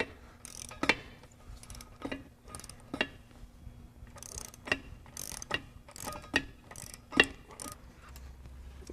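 A ratchet wrench tightens an outboard motor propeller nut, producing a sparse series of close, crisp clicks and ratcheting ticks at an uneven pace in a quiet setting.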